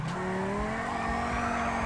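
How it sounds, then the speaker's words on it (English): A car in GTA 5 with a real-life mod sliding sideways in a drift, tires squealing in a steady high whine over a droning engine, close and continuous for a couple of seconds. "That was a good drift though, right guys?"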